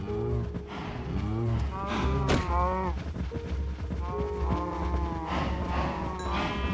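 Cows in Minecraft moo several times in a row, drawn-out low calls close by, with a few soft clicks from farm activity in between.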